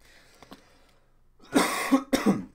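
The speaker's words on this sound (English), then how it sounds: "sorry about the coughing" Two or three harsh, close coughs in quick succession after a quiet stretch with faint throat sounds.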